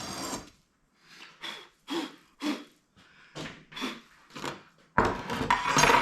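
A hand tool shaves a sand casting mould flat for a BSA Bantam cylinder head, giving a series of short, close scraping and rasping strokes in an uneven rhythm, ending in a longer, louder stretch of gritty rubbing.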